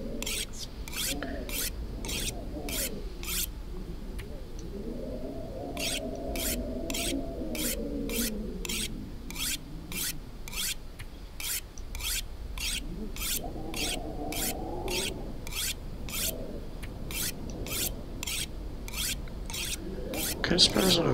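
Rhythmic rasping strokes of a tool being sharpened in the survival game The Long Dark, a steady run of evenly spaced scraping passes with brief pauses, close and continuous, with a voice speaking intermittently beneath.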